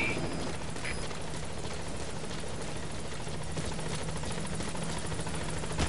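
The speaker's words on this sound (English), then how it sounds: "Let's get it back out there. Helicopter." Helicopter in the video game Metal Gear Solid 5: The Phantom Pain, a steady loud rotor drone with a continuous rumbling whir that stays constant throughout, with no speech over it.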